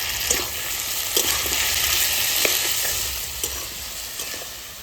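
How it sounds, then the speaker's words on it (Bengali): Spices with turmeric and Kashmiri chili powder fry in a pan, giving a continuous close crackling sizzle broken by light, regular stirring scrapes, with no speech. "পরিমাণ মতো একটু কাশ্মীরি লঙ্কার গুঁড়ো এবার ভালো করে কষায় নেবে"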